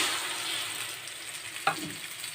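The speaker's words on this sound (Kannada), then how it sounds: "ಸೇರಿಸ್ಬಿಟ್ಟು 2 ನಿಮಿಷಗಳ ಕಾಲ ಈ ಥರ ಚೆನ್ನಾಗಿ ಹಸಿ ವಾಸನೆ ಹೋಗುವವರೆಗೂ ಫ್ರೈ ಮಾಡ್ಕೋಬೇಕು" Ground peanut paste frying in a hot pan for peanut sambar, a steady close sizzle with a brief scrape of stirring partway through, no voices.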